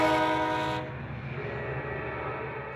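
A commuter train sounds its horn in a strong sustained blast that cuts off sharply, leaving the steady rumble and rolling of the railcars continuing nearby.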